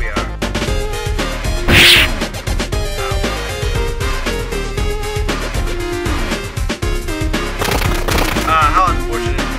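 Cannons boom repeatedly in the video game Bonesaw, dense bursts of loud impacts and crashes layered over game music and effects.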